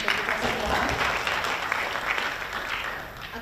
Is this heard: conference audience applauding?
yes